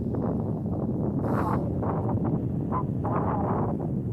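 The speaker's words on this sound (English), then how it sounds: "And it's really windy today," Low, steady wind buffeting the microphone outdoors on a frozen lake, a constant rumble with gusty swells throughout.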